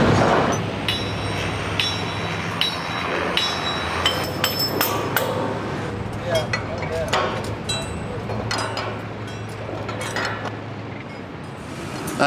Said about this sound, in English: Get it bolted up.